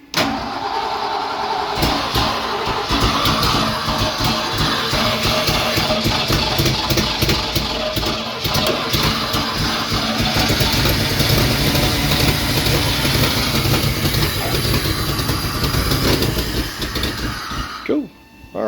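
A built swapped V8 in a Ford Mustang Foxbody cranks, catches and settles into a loud, steady, lumpy idle close by, then cuts off abruptly near the end.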